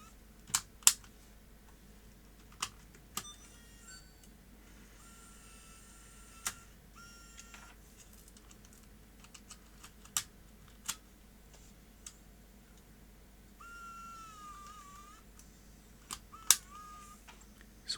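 A MicroMV camcorder tape mechanism ejecting and closing with no tape inside, heard as sparse, sharp mechanical clicks and clacks repeated several times, with a brief whirring motor near the end in an otherwise quiet room.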